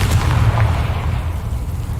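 A Confringo blasting spell in a Hogwarts-themed GTA game bursts as a loud, close, booming explosion that rolls off over about two seconds.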